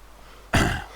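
A character in the DayZ game gives one short, rough cough, loud and close, that breaks sharply out of low background hum and fades within half a second.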